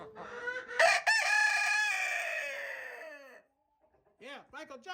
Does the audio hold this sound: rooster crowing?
yes